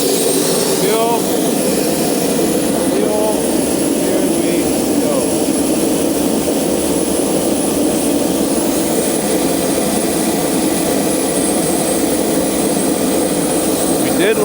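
A 1960s turbojet engine attempts to light off, producing a steady, loud, broadband roar that holds constant throughout, with voices faintly audible underneath.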